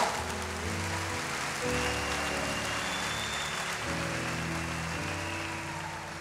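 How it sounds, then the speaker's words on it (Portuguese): A church audience applauding: dense, continuous clapping fills the space for several seconds, mixed with sustained background music and no talk over it. "aplauda Jesus aí onde você está"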